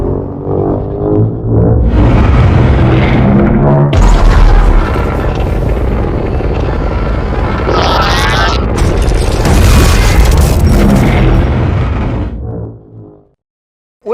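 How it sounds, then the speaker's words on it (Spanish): A big explosion in an animated battle between Sonic and Metal Sonic booms as a loud, long roaring blast with layered rumbling bursts over more than ten seconds, then fades abruptly into silence. "Una gran explosión sucede"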